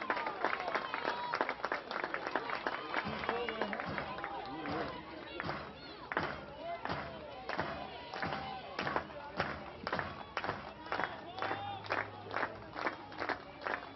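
A crowd at a college softball game between Oklahoma and Kansas comes to life, with sustained clapping and cheering rising and falling throughout, and faint voices mixed in.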